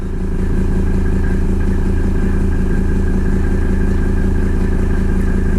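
A Mercedes OM617 diesel engine runs steadily after glow-plug starting, a loud, close, continuous clattering idle with a low rhythmic knock and no voices.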